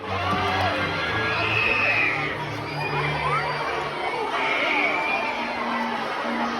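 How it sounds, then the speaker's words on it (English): A crowd screams and cheers at a Medieval Times show, loud, high-pitched shouting and children's yells swelling in waves close by, with chatter and talking mixed in. "Why are they screaming?"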